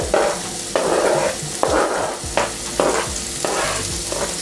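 Shrimp and vegetables stir-frying in a pan for a sweet and sour dish, with loud bursts of sizzling and repeated scraping stirs about once a second, close up and alone.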